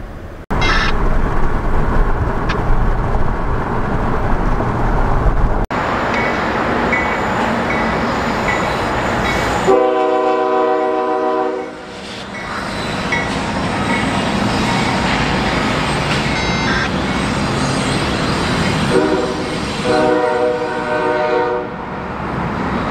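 CN freight train passing near Lane Yard in Toledo, Ohio: loud rumbling railcars roll by for the whole stretch, with blasts of a multi-tone horn sounding midway and again near the end.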